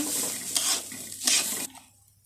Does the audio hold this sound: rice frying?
yes